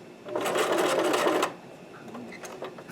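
A sewing machine stitches a cosplay collar in a quick, fairly loud burst of rapid needle clatter lasting about a second, then stops, leaving faint handling sounds and quiet room noise.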